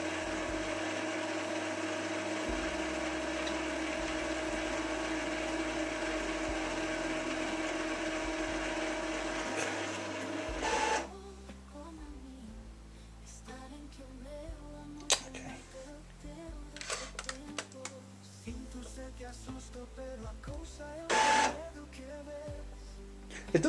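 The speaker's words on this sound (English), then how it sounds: "It does sound like it's priming again, but it literally says it's cleaning the nozzles this time." Epson EcoTank 2814 printer priming and cleaning its nozzles, a low whirring mechanical hum that runs steadily, then shifts into irregular clicks, ratcheting gear noises and brief motor bursts, close and fairly quiet.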